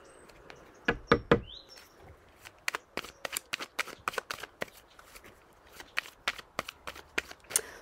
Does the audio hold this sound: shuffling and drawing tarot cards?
yes